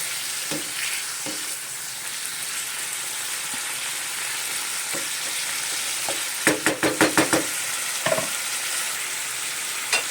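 Chicken livers fry in a covered pan as home-cooked ciğer kavurma, a steady broadband sizzle running throughout, with a quick burst of knocking clatter midway and a couple of lighter taps near the end.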